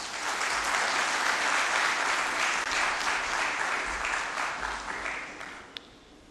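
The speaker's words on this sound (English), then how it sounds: "Please give him a big round of applause" Sustained applause from a large audience at an ICAP event as the institute's president is invited to the stage, a thick even roar of clapping that gradually fades, with a sharp click near the end.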